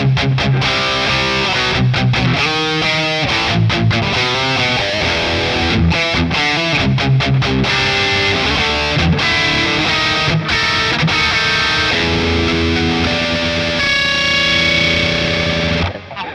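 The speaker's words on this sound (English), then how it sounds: "This is the brown channel. So this should give us a really, really heavy distortion response." Electric guitar through a Boss Katana 50 MK2 amp on its brown channel with heavy distortion: thick, saturated chugging riffs with choppy stops, then sustained ringing chords and a held note, loud and alone.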